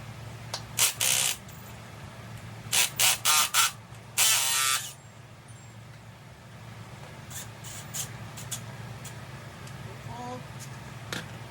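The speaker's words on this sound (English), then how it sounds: "So now we're gonna remove the 2 bolts that are left." Bolts being removed from the air intake of a Harley-Davidson Sportster 48: a few sharp ratcheting and clicking bursts near the start, then quiet handling noises over a low hum, with a person talking in between.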